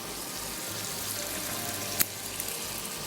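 Whole red chillies frying in hot oil while cooking beef bhuna masala, a steady soft sizzle throughout with one brief sharper crackle partway through, close and fairly quiet.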